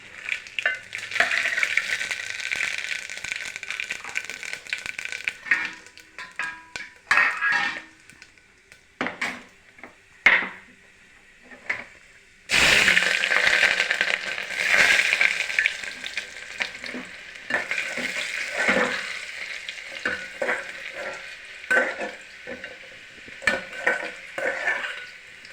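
Fenugreek, mustard seeds and cumin crackle and sizzle in hot oil, with a busy popping hiss and occasional scrapes and clinks of a utensil against the pan.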